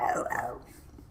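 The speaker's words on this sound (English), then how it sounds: "That bark is amazing" A dog lets out a loud, close bark with a short growly edge in the first half second, then the sound trails off into quiet room noise.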